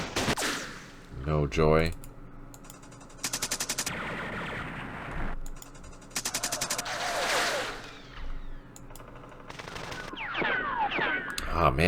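Bursts of automatic gunfire and single shots in a Vietnam War battle at Hue from the Campaign Series Vietnam strategy game, loud and repeated in short rattling volleys, with someone talking between them.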